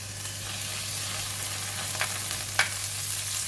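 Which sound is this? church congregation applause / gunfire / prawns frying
prawns frying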